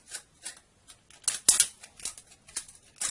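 Scissors snipping through a thin aluminum soda can, a series of sharp metallic crunches and clicks coming in irregular bursts, with a louder cluster of cuts in the middle, close and otherwise quiet.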